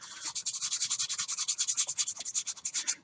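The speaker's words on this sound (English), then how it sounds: "we're going to turn around and we're going to sand it" Rapid rhythmic strokes of sandpaper on the body tube of an Estes Magician model rocket, a bright scratchy rubbing repeated about ten times per second, close and steady with no voices.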